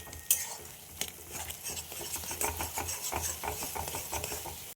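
A spatula scrapes and clatters against a pan while stirring egg bhujia, Bengali scrambled eggs, with a soft sizzle of frying underneath; the scraping strokes come close and fairly quickly, with no talk.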